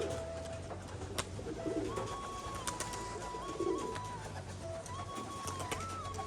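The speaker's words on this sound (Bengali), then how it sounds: "পায়রা কিন্তু এখনও অনেকই পায়রা ঘরে আছে" Pigeons coo repeatedly nearby in a loft, soft low throaty calls over a steady hum, with occasional chirps and rustling in an enclosed space.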